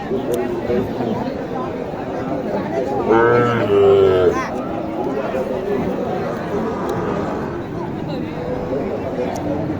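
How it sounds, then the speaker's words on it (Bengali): At a crowded cattle market, a single close cow lets out one long, loud moo that rises over steady crowd chatter and voices talking nearby. "এখানে দেখেন একটা গরু আছে"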